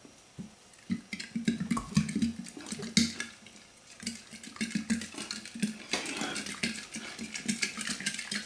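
Fruit, sugar and yeast for homemade wine are stirred in a container, giving irregular wet sloshing and clinking knocks that sound close and fairly quiet.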